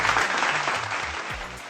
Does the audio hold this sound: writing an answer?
no